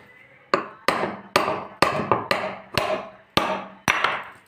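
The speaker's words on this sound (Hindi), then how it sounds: "ऐसे ठोक दी जाती है तो बैरिंग निकल जाती है।" A rod is hammered to knock the bearing out of a ceiling fan. About nine sharp metallic blows ring out close and evenly spaced, each with a short ringing decay.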